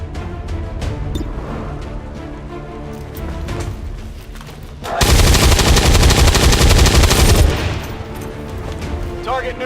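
Sustained automatic gunfire in XCOM 2 rattles loudly in a dense continuous burst lasting a couple of seconds, preceded by scattered shots and followed by quieter battle noise.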